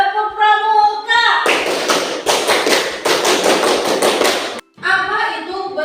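A group performs the Pramuka scout clapping pattern: a quick, dense run of rhythmic claps follows chanting and stops abruptly before voices resume.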